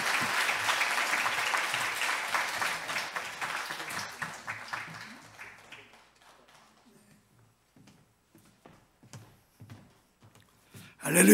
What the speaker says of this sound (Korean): 우리 목사님 박수로 모시겠습니다